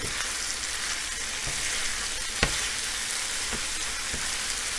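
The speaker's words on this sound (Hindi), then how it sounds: "ये मिर्चे डालेंगे बड़े वाले कटे हुए और इसको मिक्स करेंगे" Liver frying on a tawa with coriander, mint and chopped large chillies, a steady close sizzle with a few sharp scrape-and-clack accents from stirring, no talking.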